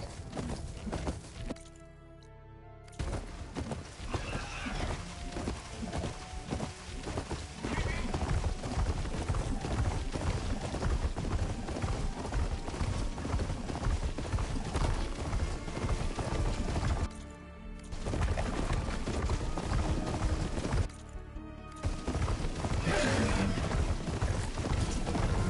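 Horse hooves clip-clop in the Horizon Forbidden West video game, a steady rhythmic run of hoofbeats under game music and ambience, with a few brief quieter gaps along the way.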